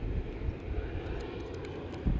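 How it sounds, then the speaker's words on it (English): Low-flying airplane passing overhead, a steady broad engine drone heard from a distance outdoors, faint and continuous with no talk. "That plane is flying really low"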